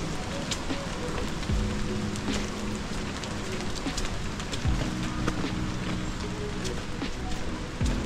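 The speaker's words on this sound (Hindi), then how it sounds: "बारिश भी बिल्कुल कम होती जा रही है।" Steady rain patters outdoors near the Nine Arches Bridge in Ella, Sri Lanka, a constant dense hiss of drops at moderate level, with faint bird calls and occasional background sounds.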